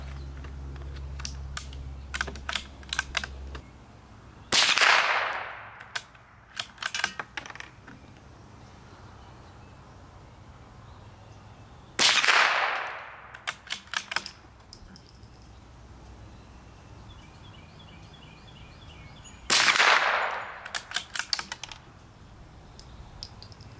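A CZ455 .22 rifle firing CCI high-velocity target ammunition: three sharp, loud shots spaced several seconds apart, each trailing off in a short decay, with faint mechanical clicks and handling noise between them.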